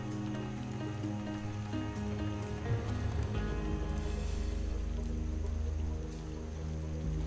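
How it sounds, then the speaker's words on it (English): Steady rain falls in the video game Starbound, a soft continuous hiss of drops laid over a low droning background, faint and even throughout. "Rain. That'll help. Keep my footsteps quiet."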